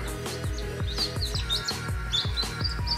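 Newly hatched chicks, some just out of the incubator, chirp rapidly and close by in overlapping high peeps. The chirping continues without a break and no one speaks.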